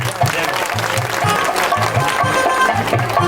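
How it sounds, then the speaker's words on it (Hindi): An audience at a village religious night jagran claps loudly and steadily for a few seconds, a dense burst of applause with rhythmic beats in it, and no voice is heard. "एक बार ताली बजाओ।"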